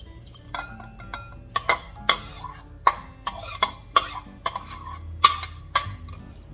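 Tuna mixed with sliced shallots, scallions and cilantro in a bowl: a steady run of about a dozen crisp spoon taps and scrapes against the bowl, close and clear, with no talk.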